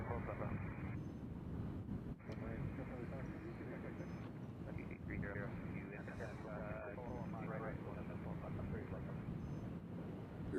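A JetBlue airliner from Boston moves at Nashville International Airport, its engine roar a broad, steady rumble at a distance, with people talking over it throughout.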